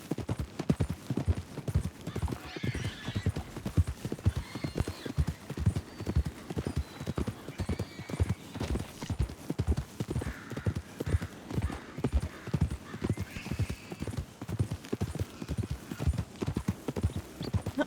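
Horse hooves clip-clop in a steady, brisk rhythm throughout, close and continuous, with a faint whinny partway through, from Red Dead Redemption 2.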